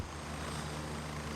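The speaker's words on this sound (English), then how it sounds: "That's just a helicopter." A helicopter in the video game Gray Zone Warfare drones steadily nearby, a constant engine and rotor rumble with a faint high whine and no break in level.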